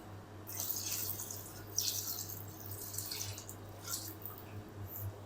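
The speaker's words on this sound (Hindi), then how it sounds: "अब हम इसके अंदर ऐड कर देंगे पानी।" Water is poured over raw chicken pieces for fried chicken, a soft, fairly faint splashing in a few separate bursts over a low steady hum.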